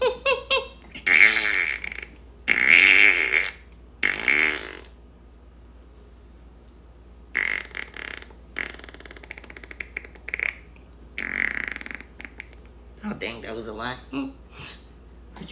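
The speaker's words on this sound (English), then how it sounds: "Are you playing music with your farts?" Fart noises played as music come in loud, squeaky bursts grouped into rhythmic phrases, separated by short silent gaps, like notes of a tune.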